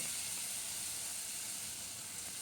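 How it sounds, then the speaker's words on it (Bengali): A ground, dry-roasted spice paste fries in oil in a pan over a low gas flame. It makes a steady, soft sizzle and hiss that carries on evenly with no speech. "এবার এই মশলাটা দিয়ে দিলাম এই মশলাটা একটু ভেজে নেব"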